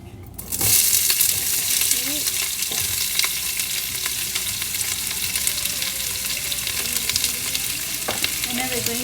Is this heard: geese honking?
no